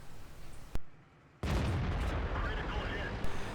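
A tank cannon fires once in World of Tanks, a sharp loud boom followed by a brief dip, then a dense roaring rumble of engine and battlefield noise that carries to the end.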